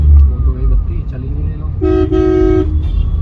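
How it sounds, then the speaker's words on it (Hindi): Delhi road traffic with a loud car horn blaring in two close, sustained honks near the end, over engine rumble and talking voices. "ट्रैफिक तो दिल्ली का हमेशा ही रहता है, ये कभी ख़त्म नहीं होने वाला"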